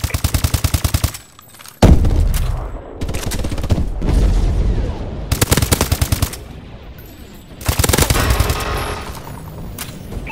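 Vulcan killstreak gunfire in Call of Duty: Advanced Warfare, loud sustained bursts of rapid-fire shooting broken by short gaps, with several long streams of heavy fire and explosive booms over a noisy battlefield.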